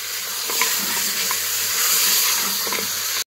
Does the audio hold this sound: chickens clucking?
no